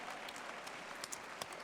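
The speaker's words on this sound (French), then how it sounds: "on peut applaudir Frédéric Michalak et ses équipes" Applause from an audience at the opening of a sports festival, a soft continuous patter of clapping heard from a distance, with a few sharper individual claps standing out.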